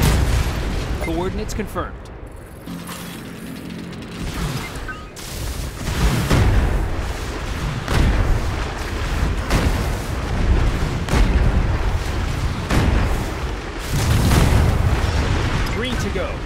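Repeated booming artillery fire and explosions in the Anno 2205 video game, loud bursts recurring irregularly throughout beneath a radio-style voice and a dense battle soundscape.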